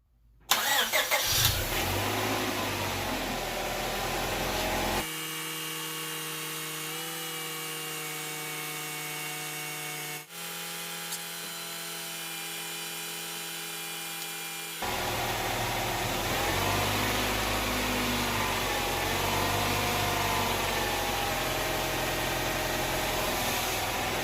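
A Honda Prelude engine runs steadily at idle while the steering wheel is cranked fully from side to side to build pressure in the power steering hose; the tone shifts partway through as the load changes, close and continuous, with no talk.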